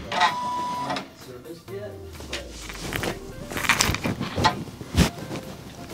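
A multi-needle embroidery machine scans its hoop frame with whirring motor sweeps, rising and falling mechanical tones, beeps and clunks, while a person talks over it.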